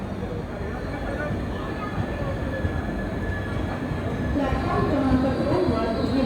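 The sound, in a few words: Deccan Janshatabdi Express train departing Kasara with banker locomotives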